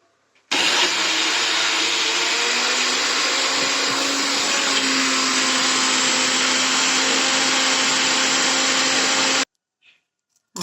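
A kitchen mixer grinds coconut, onion, small hot chillies, tamarind and a piece of ginger into chutney. The motor whirs loud and steady for about nine seconds without a break, then stops abruptly.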